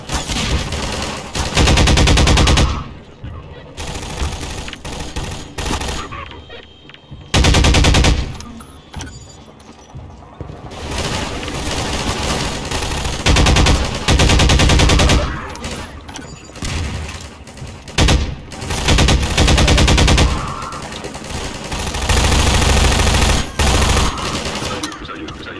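Loud, rapid automatic gunfire from urban combat in the video game Half-Life 2, coming in long dense bursts with short quieter gaps and occasional heavier booms, filling the whole stretch.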